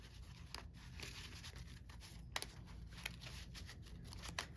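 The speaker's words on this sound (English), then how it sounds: "So I will shuffle a little bit on camera for you guys" Newly sleeved Yu-Gi-Oh! cards shuffled close up in a quiet room, a steady run of soft plastic rustles and riffles broken by a few sharper clicks as the sleeves slap together.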